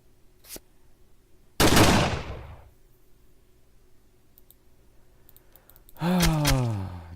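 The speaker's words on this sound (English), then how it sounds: "No, I'm going to shoot you first." Gunfire in the Day R Survival video game: a single sharp shot, then a loud burst decaying over about a second, and later another shot with a ringing metallic tail, with no talking.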